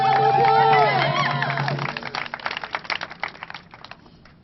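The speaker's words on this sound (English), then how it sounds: "Give him a round of applause." Applause breaks out at an outdoor No DAPL rally in Albuquerque, a dense patter of clapping rising beneath a voice that trails off at the start, then thinning into scattered claps as it fades.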